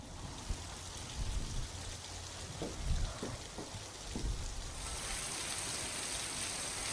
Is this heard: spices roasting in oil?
no